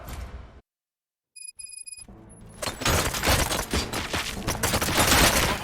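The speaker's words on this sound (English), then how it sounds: "Gunshots? What's going on?" In the RoboCop Rogue City game, a brief electronic beeping passage after silence gives way to a dense, sustained burst of gunfire, loud rattling shots building toward the end.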